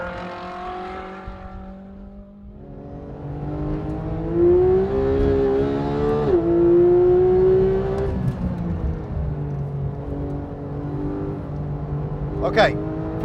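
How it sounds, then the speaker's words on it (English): A Porsche 991 GT3 on a flying track lap, its engine note climbing steadily through the revs, easing briefly, then pulling hard again, loud and close throughout with a short high whine near the end. "This Porsche sounds incredible."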